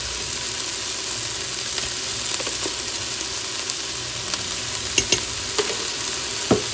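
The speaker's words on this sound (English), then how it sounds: "as you can see, these are sauteing up really nice" Crumbled chicken breakfast sausage sautéing in an Instant Pot, a constant soft sizzle with a few scattered taps and scrapes from stirring, near and moderately loud, with no one speaking.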